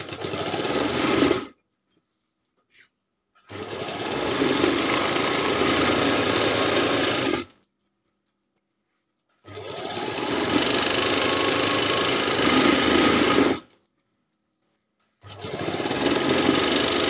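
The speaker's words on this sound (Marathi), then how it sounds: "त्याच्या बाजूला अजून एक टीप मारून घेतो आपण." A sewing machine stitches a baby quilt pieced from old recycled cloth in close, steady whirring bursts of a few seconds each, separated by short silent pauses.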